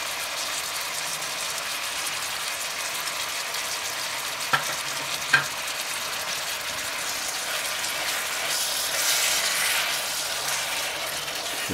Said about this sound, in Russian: Все перемешиваем.